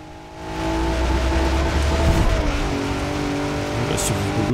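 A hardcore Quartz Regalia off-road car in Forza Horizon 4 drives with a loud, steady engine drone and rising revs throughout, close and continuous, with a player talking over it.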